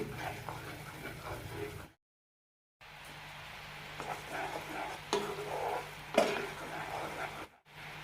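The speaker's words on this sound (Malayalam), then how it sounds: "പാനി നന്നായി പതയാൻ തുടങ്ങിയിട്ടുണ്ട് ഒരു നൂൽ പരുവാകുന്നവരെ ഇതേപോലെ തിളപ്പിച്ചെടുക്കാം" Jaggery syrup bubbling and frothing in a pan as it boils toward a one-string consistency, a steady close sizzle with occasional stirring scrapes, broken by a short silent gap.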